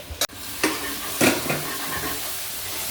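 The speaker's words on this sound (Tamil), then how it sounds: "நல்லா தக்காளி பொரியல் வதங்கிட்டு அப்புறமா தலைக்கறி எடுத்து போட்டுக்கலாம்." Tomatoes sautéing in a pan before goat head meat goes in, a steady soft sizzle with a few scraping stirs of a spoon against the pan and a sharp knock near the start.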